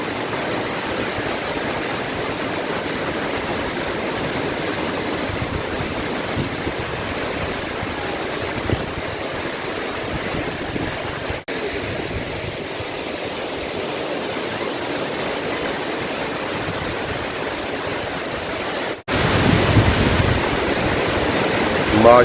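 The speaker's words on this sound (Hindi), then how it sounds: "वाटरफॉल के बिल्कुल नीचे खड़ा हूँ" Manthoka Waterfall in Skardu, Gilgit-Baltistan, Pakistan roars from right beneath it, a dense, constant rush of falling water that stays loud throughout and swells briefly near the end.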